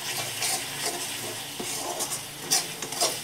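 A spoon stirs a spice mixture with asafoetida around a pan, scraping and clinking against the metal over a steady low sizzle, with several sharper scrapes throughout.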